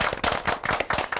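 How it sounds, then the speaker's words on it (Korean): An audience in a Korean church talk show studio claps in a quick, rhythmic burst of bright, close hand claps. "아유, 박수 한번 보내드리죠, 우리 이보연 씨에게."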